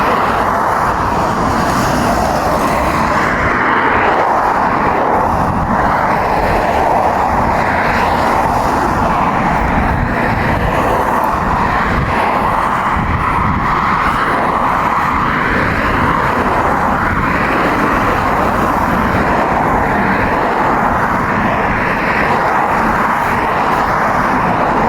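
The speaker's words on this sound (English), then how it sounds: "the planes are taking off" A steady, loud roar of aircraft near an airport as planes take off, a broad continuous rumble mixed with road traffic noise, with no talking.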